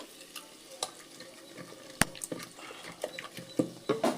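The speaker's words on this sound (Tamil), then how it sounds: "கடுகு காஞ்ச மிளகு போட்டு வச்சுருக்கேன் சவுண்ட் வருது பாருங்கள்" Crackling sizzle of mustard seeds and dried chillies popping in hot oil, with scattered sharp pops over a quiet hiss.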